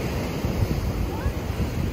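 Ocean waves wash up on a beach on New Zealand's Coromandel coast, a loud close surf rush mixed with wind buffeting the microphone.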